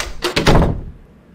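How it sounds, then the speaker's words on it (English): Knocking on a door in the horror game Mandela Invasion: three loud, heavy thuds in quick succession, close and alone, fading into quiet. "Something knocked on my door."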